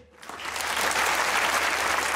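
A television studio audience at a comedy talk show breaks into applause, rising quickly from quiet into a full, even wash of clapping that holds to the end.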